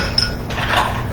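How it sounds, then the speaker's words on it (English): Ice cubes dropped into a cup for iced coffee, a bright clink at the start followed by a softer rattle as the cubes settle, close and clear. "few ice cubes into the cup."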